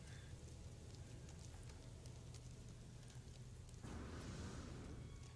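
Toxic rain on an alien planet in No Man's Sky: steady, faint patter of rain falling on the ground, continuous throughout and briefly swelling near the end, with no speech.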